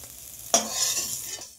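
Fried prawns are lifted out of a pan of hot oil, giving a sudden scrape and clatter followed by a steady, close sizzle that fades out after about a second.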